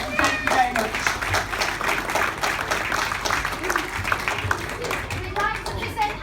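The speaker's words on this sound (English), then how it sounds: "give yourselves a round of applause" Audience clapping at a charity presentation night for children's transplant games, scattered and fairly soft, mixed with chatter and children's voices in the room.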